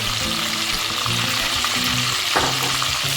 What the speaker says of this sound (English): Fry it a bit, you don't want to burn it.